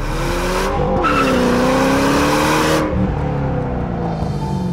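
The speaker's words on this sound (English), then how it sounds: "I can't help but light the tires up every time I shift" Rear tires of a 2010 Ford Shelby GT500 squeal loudly during a fast gear shift, a sustained screech over a roaring engine that rises and falls, then settles as the car pulls away.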